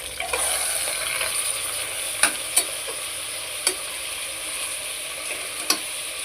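Chicken fries in spiced oil for Chettinad biryani, a continuous hissing sizzle broken by several sharp clicks of a utensil stirring against the pan.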